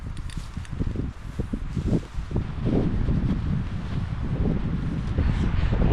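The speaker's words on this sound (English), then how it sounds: "The wind's gonna be a problem." Gusty wind buffets the microphone at a frozen alpine lake in the mountains, loud and continuous with rustling and crunching steps near the campsite, no speech.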